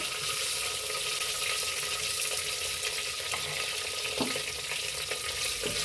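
Cumin, asafoetida, curry leaves and slit green chillies fry in hot oil as a tempering for mixed dal handi. The sizzle is loud, steady and close, with a few faint stirring taps.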